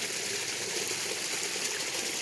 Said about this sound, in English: Wanted to show the waterfall